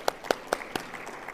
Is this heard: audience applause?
yes